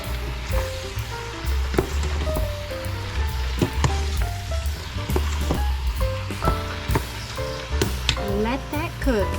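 Sausage sizzles and browns in a soup pot for zuppa soup, a dense, continuous crackle up close with scattered pops and the scrape of stirring throughout.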